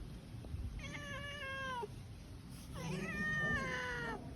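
A pet cat meows insistently for fish, two long, wavering calls separated by a short gap, fairly faint over a steady background hum.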